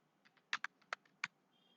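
Keys clack on a computer keyboard in a few quick, separate taps, close and fairly quiet, with short gaps between strokes.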